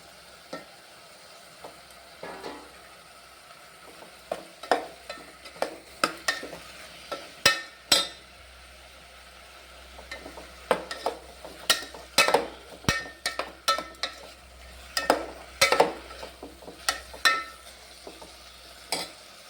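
Okra is sautéed in a pan, with quiet sizzling under repeated sharp scrapes and clinks of a spatula stirring against the metal. The strokes come in irregular bursts, close by, with no talking.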